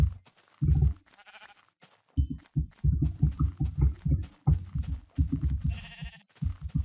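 Minecraft sheep bleat in several quick bursts amid game sounds and thumps, loud and close, with a few isolated calls spread across the span.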